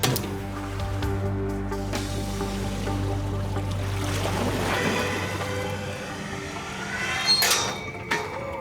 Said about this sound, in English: They hope the inrush of water to the empty box will drive the vortex effect